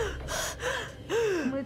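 A female character in the horror video game The Devil in Me gasps during an asthma attack: three ragged, strained, wheezing breaths in quick succession, close and fairly loud.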